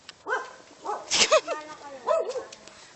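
Several dogs yip and bark in short, excited bursts, close by, mixed with whimpering and some voices talking.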